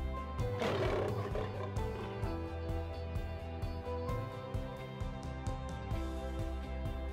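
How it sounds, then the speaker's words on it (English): A deep, rumbling big-cat roar rises and rolls on over a low continuous drone, loud and close, fading into grumbling growls. "Lion."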